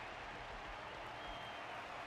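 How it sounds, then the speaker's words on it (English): Crowd applause from the video game Honkai: Star Rail, saluting a fighter in an arena match: a steady, faint wash of clapping that holds evenly throughout with no breaks. "Their constant applause is a salute to this resilient Balabagian fighter."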